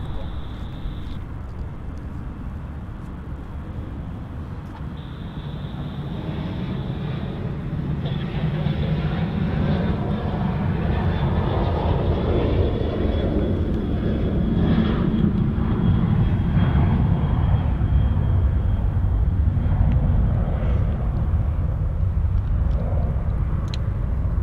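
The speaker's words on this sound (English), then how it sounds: "that SQ A350 is just about to touch down, runway 34 left" Singapore Airlines Airbus A350 landing on runway 34 left at Sydney Airport: a steady jet roar swells and holds at a constant loudness, with a faint thin whine above the broad rumble.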